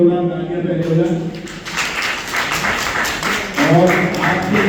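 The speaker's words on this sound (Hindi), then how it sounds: "गुरु के लिए जोरदार तालियां पहले हो जाए" An audience at a teacher-honouring ceremony in Chhindwara claps for a teacher, a dense patch of applause swelling in the middle while a voice talks before and after it.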